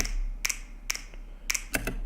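Sharp finger snap samples ring out alone, four crisp clicks spaced unevenly over a couple of seconds, with the last two coming close together.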